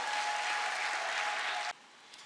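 Audience of entrepreneurs at a government address clapping: dense, loud, sustained applause from a crowd that cuts off abruptly, leaving a quiet room.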